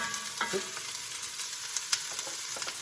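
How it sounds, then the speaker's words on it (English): Garlic sizzles and crackles steadily in hot olive oil in a pan, with a few sharp pops and light clinks of stirring close by. "This should sizzle right away."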